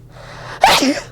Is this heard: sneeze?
yes